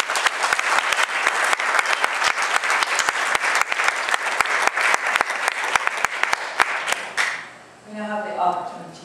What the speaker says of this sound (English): Please give the candidates for position one a good round of applause.